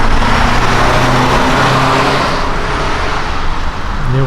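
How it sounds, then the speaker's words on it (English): A car drives past on a road outside, a steady broadband roadway rush that holds loud across the whole stretch and eases a little toward the end, with no talking over it. "And there was a car going by for that"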